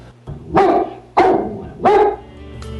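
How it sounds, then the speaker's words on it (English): A dog barks in a radio advertisement about a watchdog, aired during a local sports broadcast. Three loud, evenly spaced barks stand out clearly, with no talking over them. "You've got a great watchdog. He barks every time someone comes to the door"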